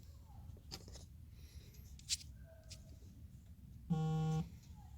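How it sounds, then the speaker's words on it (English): Short electronic notification tones from a phone's Facebook app sound at moderate volume over a quiet background, with a few brief chirps and one sustained buzzy tone near the end. "I don't think you guys want to hear my Facebook notifications."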